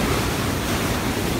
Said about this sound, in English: after these big waves, this is where I'm getting out of here, Johnny